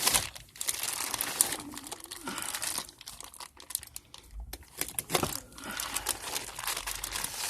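Plastic mycelium grow bags, packed rock-hard, are slit and torn open with an X-Acto knife, giving close crinkling, crackling and ripping bursts in an irregular rhythm, with no voices.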